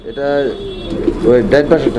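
Fancy pigeons at a pigeon farm in Bangladesh coo in soft, throaty bursts close by, a few rolling calls in quick succession.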